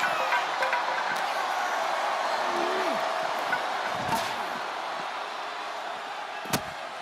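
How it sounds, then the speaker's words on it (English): A crowd in the wrestling video game WWE 2K25 roars steadily through a casket match between John Cena and Roman Reigns, a dense wash of cheering with a few sharp thuds and a voice underneath. "This crowd is thunderous right now."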